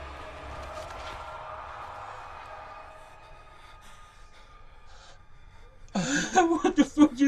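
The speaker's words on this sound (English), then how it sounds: "the fact that your guy every now and then gasps." A character in the horror game Amnesia: The Dark Descent gasps in short, breathy bursts near the end, loud and close after a long stretch of low, droning ambient background.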